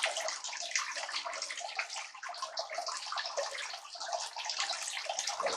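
Water rushes steadily through a high banker sluice used for gold prospecting, a continuous loud hissing, splashing flow with no pauses, close by.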